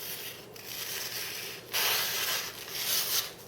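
A kitchen knife is drawn through a Cuisinart knife sharpener, giving soft rasping, rubbing strokes up close, several repeated pulls with brief pauses, alone without talk.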